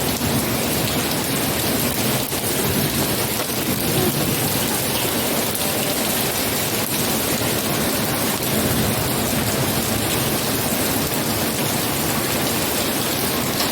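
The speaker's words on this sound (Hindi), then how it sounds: "कितनी तेज बारिश हो रही है" Heavy night rain pours steadily as a dense, loud wash of drops on surfaces, with low thunder rumbling faintly in the background throughout.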